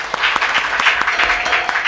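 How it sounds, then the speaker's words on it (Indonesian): Church congregation at a worship service clapping loudly and close by, a brief burst of dense applause with a few sharp individual claps standing out. "Berikan tepuk tangan yang lebih baik lagi untuk Tuhan."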